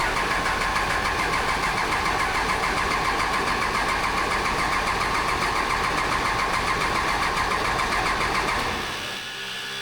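Engine of a Mack A40 truck being started after sitting unused for a long time: a loud, dense, continuous mechanical churning close by that runs for several seconds, then cuts off abruptly near the end.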